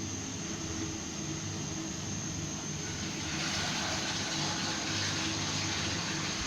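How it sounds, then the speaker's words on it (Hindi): Water heating in a pot on a lit stove flame until it boils, a steady broadband hiss and rush that builds louder partway through, with no talking. "पानी बॉयल हो चुका है,"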